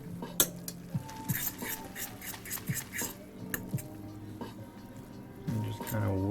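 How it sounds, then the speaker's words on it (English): Instant Taiwanese dan dan noodles being stirred with sauce: a series of light clicking scrapes and taps of utensils against a bowl, close and moderately quiet, with faint background noise. "It takes a little bit of stirring to get it nicely combined"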